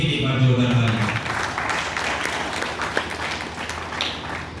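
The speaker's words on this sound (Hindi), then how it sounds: "एक बार मैं कहूँगा इन सभी के लिए एक बार जोरदार तालियां," Audience applause at an Independence Day function, a dense steady patter of many hands clapping that carries through the whole stretch at a fairly loud, even level, with a few raised voices mixed in at the start.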